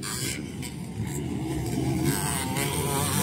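KLX dirt bike motorcycles racing in a local enduro at the CCH MX Park motocross track in Montalban, Rizal, engines droning and revving in a continuous loud roar at mid distance, with no talking.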